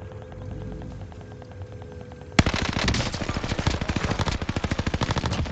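Akimbo 1911 pistols fired in a first-person shooter video game, a rapid even stream of loud close shots that starts abruptly halfway through and keeps a steady rhythm over background game noise, without speech.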